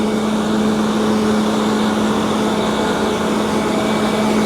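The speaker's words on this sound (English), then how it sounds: "That truck is noisy" A noisy truck idles near a waterfront, a loud, unbroken rumble with a steady low hum and broad engine hiss that holds even for several seconds, no voices.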